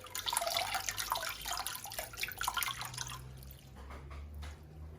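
Water drips and trickles from a wet knitted lace shawl as it is gently lifted from the middle, a close, soft patter of drops that thins out toward the end.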